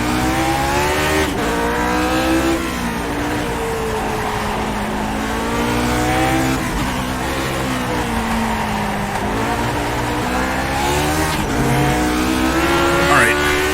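Lotus 49 racing car in the iRacing game at Okayama, its engine roaring loud and close throughout, pitch climbing and dropping as it revs and shifts up through the gears.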